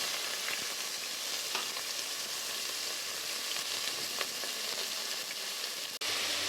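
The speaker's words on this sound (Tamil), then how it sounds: "இப்போ கட் பண்ணி வச்சுருக்கிற வெங்காயத்தை சேர்த்துடலாம்" Chopped onions fry in hot oil in a pan for a Tamil siru keerai kuzhambu, giving a steady, even sizzle with a few soft crackles throughout and a brief dip near the end.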